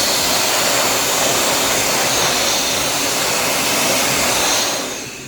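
Hot-air rework station blowing steady, loud broadband air across a PS3 circuit board at about 300 °C to clear debris, a continuous roaring hiss that tapers off near the end.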